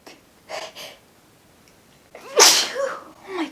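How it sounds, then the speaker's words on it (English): A single violent human sneeze, close and loud, preceded by a couple of quick sharp inhales. "that was a violent sneeze"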